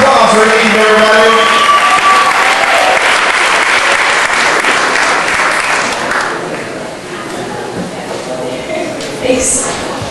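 An audience applauds at a singing contest, with loud, sustained clapping and some crowd noise that gradually fades toward the end.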